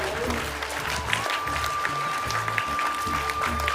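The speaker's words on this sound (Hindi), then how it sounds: "चलिए ताली बजाइए।" Audience at a school award ceremony for punctual students claps steadily throughout, a dense continuous patter with voices mixed in.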